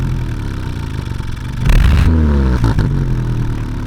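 Subaru WRX (VB) engine revving through a quiet exhaust center silencer, starting as a low steady idle, then rising in a loud rev burst and falling back to a fluctuating engine drone, with no talk.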